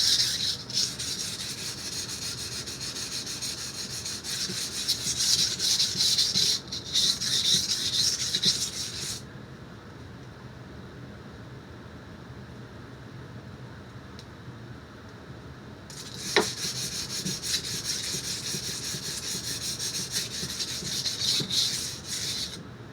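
Knife steel is sharpened on a waterstone with repeated close, gritty rubbing strokes that run steadily for several seconds, stop for a quiet pause, then resume, with no talking.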